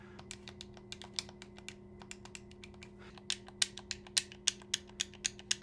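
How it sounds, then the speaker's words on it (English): Quiet plastic button clicks on a GameSir G8 Galileo mobile gaming controller, pressed in an irregular series, growing a little louder and more frequent toward the end, over a low steady hum. "The buttons also feel good and not too loud when pressing them here."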